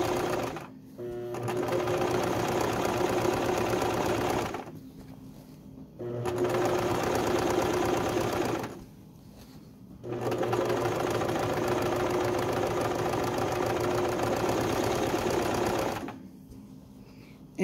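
A sewing machine zigzag stitching around the appliqué edges of a baby quilt whirs steadily in three long runs separated by brief pauses, close and even in loudness, with no talking.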